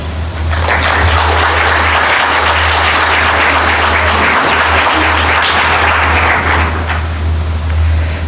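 Sustained, loud applause fills a board of education meeting room, many hands clapping steadily for about seven seconds before tapering off, with a low hum underneath.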